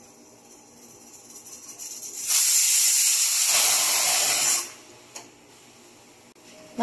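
Steam hisses out of a pressure cooker holding tomato soup, a sudden loud broadband whoosh lasting about two seconds before cutting off, followed by a faint quiet background.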